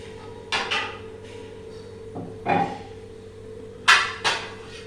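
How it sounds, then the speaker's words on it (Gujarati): An iron griddle (lodhi) is set down on a gas stove with low flame, several loud metallic clanks and knocks spaced irregularly, close and clear over a steady background hum. "અને આપણે આપણી લોઢી મૂકી."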